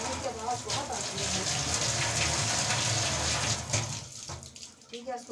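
A kitchen tap runs water steadily and loudly into a sink, a continuous broadband gush that eases slightly near the end, with faint voices in the background.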